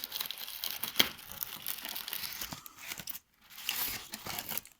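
A bubble-wrap protective bag from a Realme 5i phone box is crinkled and crunched up close, in busy rustling bursts with a sharp crackle early on and a brief silent gap before more handling.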